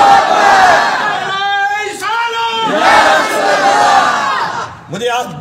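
A large crowd roars a religious slogan chant in unison, loud and close, with ragged overlapping voices swelling and falling over several seconds, followed by a further shorter burst of shouting.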